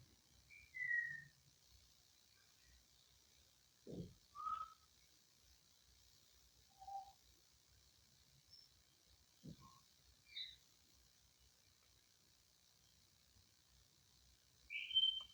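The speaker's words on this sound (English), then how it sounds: "If you're picking up some whistling or chatting in the background, that will be my African grey parrot" Sparse, faint whistles and short chirps from an African grey parrot come at intervals against a quiet, hissy background, with occasional soft clicks.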